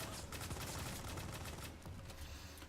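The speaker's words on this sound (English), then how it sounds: "I switched to my secondary weapon, just a little SMG" A small SMG in the online shooter Firefall fires a rapid, continuous burst of close, sharp shots for a couple of seconds.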